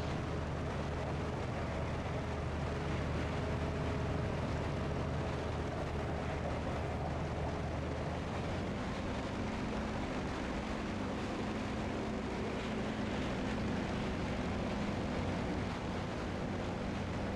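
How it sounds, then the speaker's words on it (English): In DCS World, an F-16 jet roars around a Yak-52 whose piston engine drones, giving a continuous, broadband rumble and whine that stays steady and moderately distant, with a shift in tone about halfway through. "I can hear, like, the pistons clanging on this engine, but I can hear a roar of your jet flying around us at the same time"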